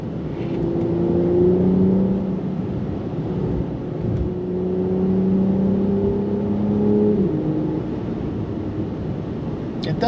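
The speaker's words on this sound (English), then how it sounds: "It does have a good exhaust note" A Mercedes-AMG E43 engine and exhaust drone steadily while the car is driven up a twisty road, with the pitch rising and falling through gear changes. The note is continuous and fairly loud, and no one speaks.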